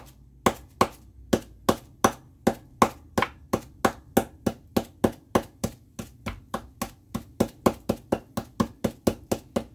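Camphor pieces being broken up with repeated sharp knocks, about thirty evenly spaced hard strikes in a steady quick rhythm, close and loud with no talk.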